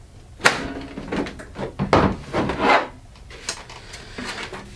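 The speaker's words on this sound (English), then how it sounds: "Let's get this side panel off here." A side panel being pulled off a Cooler Master CM690 computer case, giving a few close, hollow knocks and scraping rubs of metal panel, irregular and brief over several seconds.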